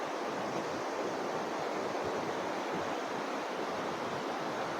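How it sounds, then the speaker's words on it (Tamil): Steady broadband rush of river water flowing through dense forest between the Valparai and Athirapally area, continuous and fairly close with no voices over it. "ரெண்டு பக்கமும் அற்புதமான நீரோட்டம்"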